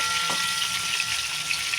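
Pieces of rohu fish shallow-frying in a pan after being flipped, a steady, even sizzling hiss with a brief soft knock near the start, close and uninterrupted.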